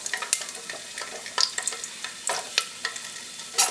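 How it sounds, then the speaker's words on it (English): Garlic goes into hot oil with cumin seeds and peppercorns in a pressure cooker for aloo gobi. Close, sharp crackles and spattering pops come in an uneven rhythm over a faint sizzle. "Now I'll add garlic"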